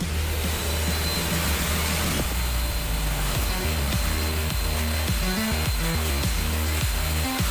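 A Lotus wet-and-dry vacuum cleaner runs steadily with a loud, constant motor drone and whooshing airflow, with some rattling tones shifting partway through.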